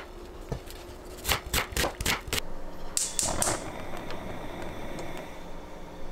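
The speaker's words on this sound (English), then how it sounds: "First, I dice an onion, about half an onion, and I just dice it really fine." A kitchen knife chops half an onion finely on a cutting board, giving a quick run of crisp, evenly spaced taps, then a short flurry of lighter strokes before it goes quiet.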